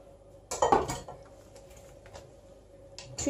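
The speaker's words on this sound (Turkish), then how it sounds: "Şimdi servis kasemi şöyle ortaya alayım." A ceramic serving bowl is set down among other dishes in a home kitchen, giving a cluster of near clinks and knocks. A softer clatter of dishware follows near the end.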